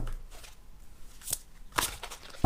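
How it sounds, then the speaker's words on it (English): Large tarot cards shuffled by hand, old-school style, giving a few soft riffling and sliding bursts, close and quiet, with a sharper tap at the end. "Let me see if I can shuffle these kind of a little bit old school."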